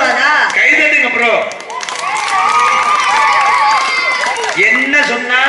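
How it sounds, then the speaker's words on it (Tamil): Audience clapping and cheering at a Tamil stage comedy drama, a dense crowd roar with applause running throughout, dipping briefly then swelling again, with shouts rising over it. "கைதட்டுங்க ப்ரோ"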